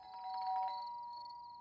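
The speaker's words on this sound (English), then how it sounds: "Suddenly, my dog heard the doorbell and came running down the stairs." A doorbell chimes once indoors, a clear two-tone ding-dong ringing out and fading away, fairly faint with no voices.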